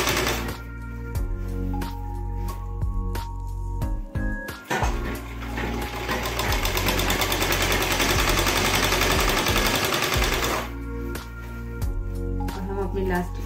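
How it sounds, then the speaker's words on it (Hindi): Sewing machine running a long steady seam while stitching the frill onto an umbrella-cut skirt, a dense continuous whirr for several seconds with short bursts and pauses at the start and end. "अब इसके बाद इसके ऊपर हम सिलाई लगाते हुए जाएंगे।"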